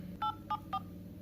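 Three short keypad beeps from a phone being dialed in Almaty, evenly spaced and fairly quiet over a low background hum.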